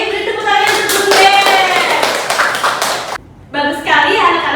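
Children in an elementary classroom lesson on environmental problems clap their hands together in a brisk, fairly loud burst that runs for about three seconds, drops out briefly, then resumes.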